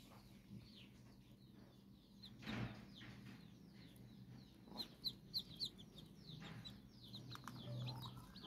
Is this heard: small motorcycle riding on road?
no